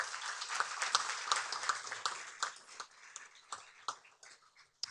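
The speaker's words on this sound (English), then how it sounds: "Give them a round of applause." Applause at a city council meeting in Carson, California, as the room claps for athletic staff: scattered, uneven clapping with sharp individual claps that thin out and fade toward the end.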